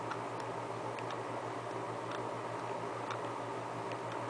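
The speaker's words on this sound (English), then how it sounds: "it's an alarm clock" A Frozen FZC148 alarm clock ticks steadily up close, its small regular clicks sounding alone over a low background hum.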